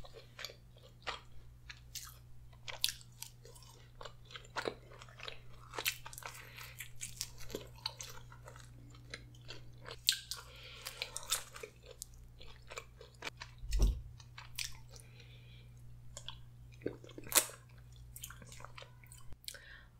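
Close, quiet mouth sounds of someone eating fries with ranch and pizza, with repeated soft crunches and wet chewing at an irregular rhythm and no talking.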